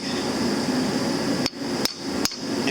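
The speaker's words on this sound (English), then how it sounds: "a brass chisel or punch and a ball peen hammer works just the same" Three sharp metallic strikes of a ball peen hammer on a brass punch set against a shaft, spaced unevenly over steady background hiss, close and loud.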